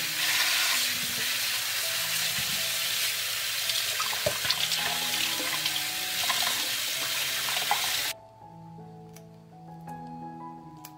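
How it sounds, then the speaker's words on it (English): Fresh grapes being washed under running tap water in a sink, a steady broadband rush of flowing water with faint splashes for about eight seconds, then the flow stops, leaving quieter kitchen sounds. "I will wash the cleaned grapes once more."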